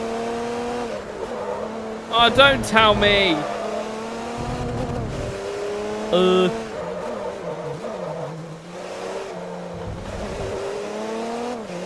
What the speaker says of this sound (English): This car's quite enjoyable to drive around this track.